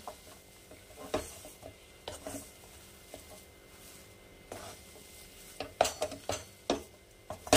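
A utensil stirs vegetable chop filling with sugar in a pan, giving intermittent metallic scrapes and clinks, sharper and denser toward the end.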